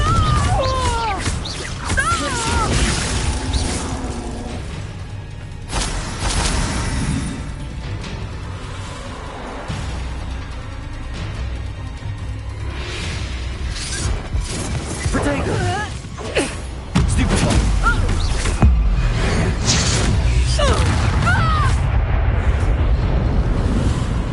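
Fiery Confringo spell blasts go off in Hogwarts Legacy. Heavy booms, crashes and bursts repeat through a noisy fight scene, with character voices talking in between.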